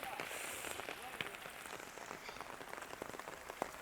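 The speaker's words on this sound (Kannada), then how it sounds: "ಇವತ್ತೇ ಫಸ್ಟ್ ಅನ್ಸುತ್ತಲ್ವ ಇಷ್ಟು ಜೋರಾಗಿ ಮಳೆ ಬಂದಿದ್ದು." Heavy rain pours down in a village in a dense, constant hiss, drops pattering hard on surfaces, faint and steady throughout.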